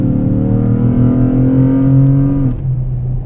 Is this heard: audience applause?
no